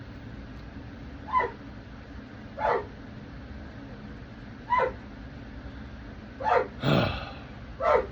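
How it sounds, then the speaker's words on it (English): A dog barks six times at spaced intervals, moderately near and fairly loud, with a steady low background hum and a brief voice at one point. "my dog's barking."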